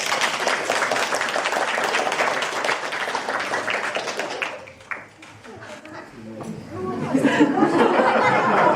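Audience applause at a children's theatre performance in Odessa, steady and dense for about four seconds before thinning out as chatter and voices take over, with a brief swell of clapping near the end.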